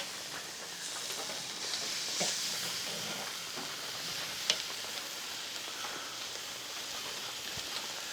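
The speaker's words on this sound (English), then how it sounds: "We're just gonna spin this around, and we're gonna put the steaks over the hot side." Marinated ribeye steaks sizzle steadily over the hot side of a grill, a constant close crackle and hiss with a few sharper pops.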